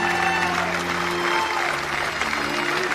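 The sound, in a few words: crowd applauding in the square at a funeral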